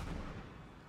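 Gunshot from a guard in Papers, Please, a single booming burst that decays into a low rumbling tail, heard alone at moderate level.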